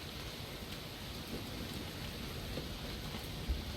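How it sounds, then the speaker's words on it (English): Steady acid rain from the Starbound video game, a dense even hiss of falling rain with a low rumbling bed throughout, constant and moderately loud with no voices. "And acid rain."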